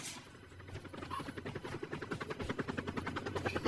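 Helicopter in the video game Call of Duty, its rotor beating in a rapid, steady chop that grows louder and more pronounced over a few seconds, heard without talk.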